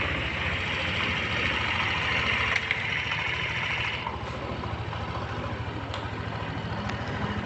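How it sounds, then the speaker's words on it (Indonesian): A Yamaha NMAX scooter engine idles steadily after a restart following a coolant change, a low, even drone with a faint higher whine, close and continuous with no talking. "kita nyalakan lagi mesinnya teman-teman"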